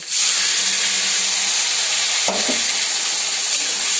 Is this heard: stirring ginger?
yes